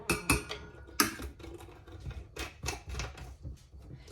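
Spoon stirring a small mixture in a bowl, producing a quick series of close, sharp clinks and taps against the sides, irregular and fairly bright, with no talk.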